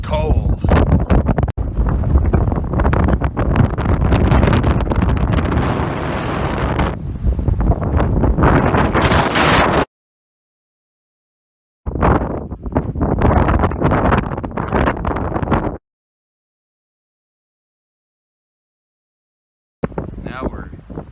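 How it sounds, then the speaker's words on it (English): Strong wind buffets the microphone on a high mountain rim above a canyon, roaring in loud broadband gusts that cut out entirely for stretches between bursts. "The wind is just crazy up here."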